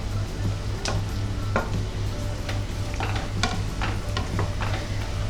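Onions sautéing with ginger garlic paste in a pan for an egg masala white curry, giving a steady sizzle with repeated sharp scrapes and clinks of a stirring spoon, close and with no talking.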